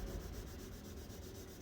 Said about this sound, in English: I'm using 2500 on a hard side of a sanding block